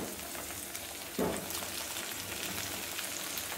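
Tomato drops into ginger-garlic paste frying in a pan for rohu fish curry, making a quiet sizzle that swells briefly as it goes in, then settles into a soft, even frying hiss.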